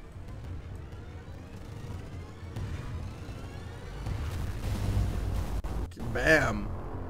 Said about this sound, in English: Really cool explosion effects.